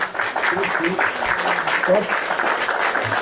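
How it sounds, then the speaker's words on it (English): Applause from a crowd, steady clapping filling the space while voices talk over it. "which I give him another round of applause"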